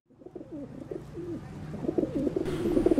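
Pigeons coo in a series of soft, rolling calls, fairly close and clear over a quiet outdoor background that grows slightly noisier toward the end.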